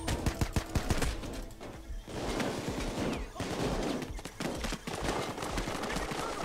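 Pistol gunfire rings out in the video game Payday 2 as rapid sharp shots in quick bursts over a busy, noisy game mix. Faint voices are present.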